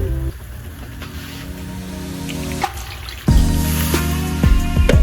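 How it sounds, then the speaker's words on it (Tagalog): Water trickles and splashes into a pot of shrimp curry, a steady pouring flow that strengthens midway, with no talk over it. "lagyan muna natin ng konting tubig"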